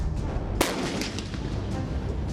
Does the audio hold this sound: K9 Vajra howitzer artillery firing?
yes